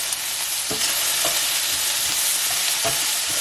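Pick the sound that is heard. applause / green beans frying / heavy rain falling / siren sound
green beans frying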